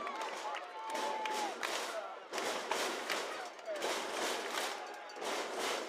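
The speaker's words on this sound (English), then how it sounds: "Listen to that crowd." A crowd cheers and roars at a summer collegiate baseball game between the Bend Elks and the Walla Walla Sweets, loud and sustained in surging waves across the whole stretch.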